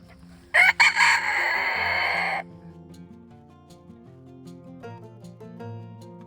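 At a homestead, a rooster crows once loudly and close by, a long drawn-out call, and then hens cluck softly over a background of gentle instrumental music.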